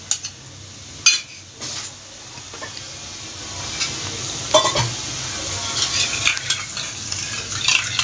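Jackfruit kalia with beaten yogurt being sautéed and stirred in a pan, a steady sizzle with scraping spoon strokes and occasional sharp utensil clinks, fairly close.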